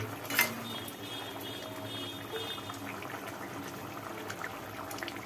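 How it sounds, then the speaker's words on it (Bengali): Water boiling in a covered pot with potatoes, a soft, steady bubbling simmer at low level, with one brief clink near the start. "এ তো টকবক করে ফুটছে।"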